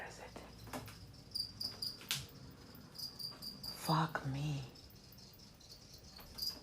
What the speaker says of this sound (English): when I hear the sound of crickets, it can really ruin my mood